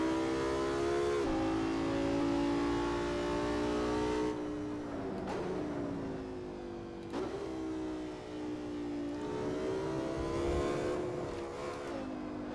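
A car engine in Assetto Corsa drives at night, revving in long rising pulls that drop sharply at each gear shift, three or four climbs in a row, loud and close with no talking.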